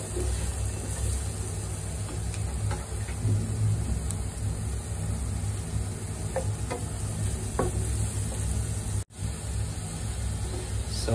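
Garlic frying in a pan while being cooked golden brown for shrimp, a steady broadband sizzle with occasional stirring clicks, close and continuous throughout without talk.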